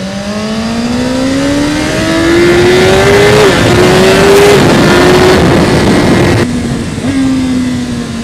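A BMW S1000RR superbike engine revs hard on the Yas Marina race track, a loud, close, onboard howl that climbs steadily in pitch, with brief dips at each gear change before rising again.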